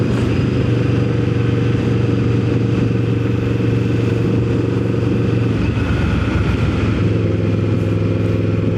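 A Yamaha Vmax 1700 motorcycle engine runs loud and steady above 5,000 RPM, a constant heavy drone with rushing wind and a slight dip in pitch midway; no one talks.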